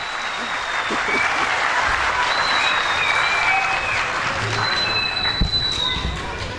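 Audience applause fills a hall at a gathering of East Turkestan communities, a steady, dense wash of clapping that holds throughout without a break.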